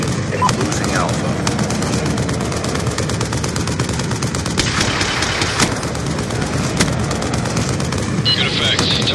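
Heavy gunfire from a VTOL warship strike in the Black Ops 2 video game pounds on for several seconds, with dense rapid shots, booming impacts and an engine drone under game radio chatter.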